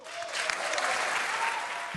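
Audience applause for the French Culture minister, Rima Abdul-Malak, at a televised political debate: steady, dense clapping from a sizeable crowd that holds for the full two seconds, with no speech over it.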